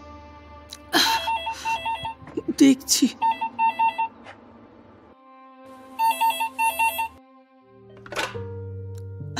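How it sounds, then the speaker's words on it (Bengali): An old-style telephone rings in another room during a Bengali audio drama, sounding in repeated two-part trilling bursts at moderate distance, with a voice speaking briefly between rings and a few clunks of movement. "ও ঘরে ফোনটা বাজছে"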